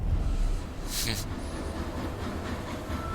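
A train running along a railway line, a steady rumbling roll with a sharp hissing burst early on, continuous and fairly loud without speech.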